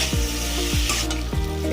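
Oil sizzling and frying in a pan after salt and turmeric go in for a fish curry with eggplant and potato, a steady close crackle with a few scraping stirs of a spatula.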